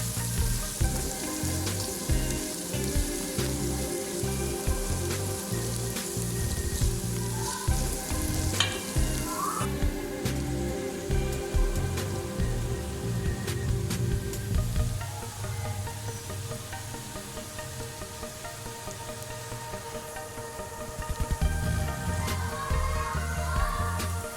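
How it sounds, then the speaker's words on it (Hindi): Spices frying in hot oil with ginger and garlic for aloo gobi, a steady close sizzle with occasional stirring clatter, continuing without speech. "जब अदरक लहसुन की खुशबू आने लगेगी तो मसाले शामिल कर देंगे।"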